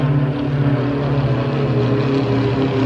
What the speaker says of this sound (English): Pardon the plane for interrupting.